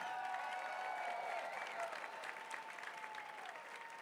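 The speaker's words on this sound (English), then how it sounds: "Let's give a big round of applause for our elite field." Applause from an audience at a Western States 2025 race meeting as the elite runners are presented, a steady, fairly faint wash of clapping lasting the whole stretch with a faint crowd murmur underneath.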